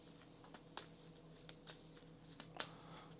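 A deck of cards for the Unstoppable boss-battle card game being shuffled, heard as a handful of sharp, close snaps and riffles spread across a few seconds over a steady low hum.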